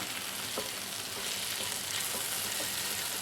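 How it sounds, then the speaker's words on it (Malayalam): Ivy gourd (kovakka) pieces fry in oil in a pan over a low flame, a steady close sizzle with faint crackles throughout and no talking. "ഇത് മൂടി വെക്കരുത് ലോ ഫ്ലെയിമിൽ നന്നായിട്ട് മൊരിയുന്നത് വരെ നമുക്കൊന്ന് വെയിറ്റ് ചെയ്യാം ഇടയ്ക്കിടയ്ക്ക് ഒന്ന് ഇളക്കി കൊടുക്കാം"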